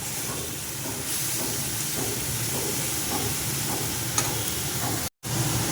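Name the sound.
greens and spinach being stirred and fried in a pan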